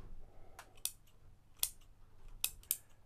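Scissors snip dried, desiccated orchid roots off a Catasetum-type plant, giving four crisp, close cuts spaced irregularly over a few seconds against a quiet background.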